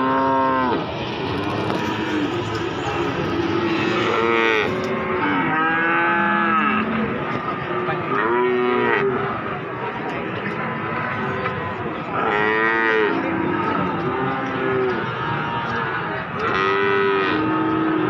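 Cattle at a livestock market for young feeder stock in Wirosari, Grobogan, Central Java, including a Limousin, lowing repeatedly with deep moos over a constant crowded market din.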